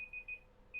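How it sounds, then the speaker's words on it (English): A phone alarm goes off with a series of short, high electronic beeps in a quick irregular pattern, faint and without talk. "And that's my phone alarm going off."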